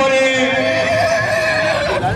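A horse whinnies loudly and close at a colt show at a horse fair, one long, wavering neigh with tonal harmonics that fills almost the whole stretch, with crowd and ambient noise faintly underneath.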